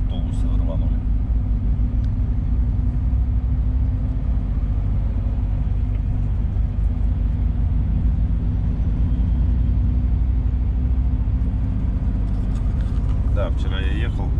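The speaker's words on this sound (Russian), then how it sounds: "Одни автобусы рванули." Road traffic in Surgut in September, with buses pulling away from a traffic light: a continuous loud low engine rumble swelling steadily across the whole stretch, close by, with faint higher noise near the end.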